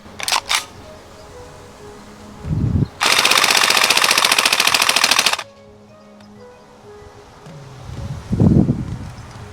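A Northeast UZI MP2 gas blowback airsoft submachine gun fires one sustained full-auto burst of about two and a half seconds, loud and close, with faint handling clicks before and after.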